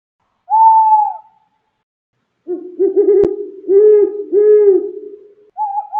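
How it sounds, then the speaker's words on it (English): An owl hoots close and clear: one drawn-out note, a pause, then several deeper rolling hoots in quick succession, ending with a short higher note. "Owl."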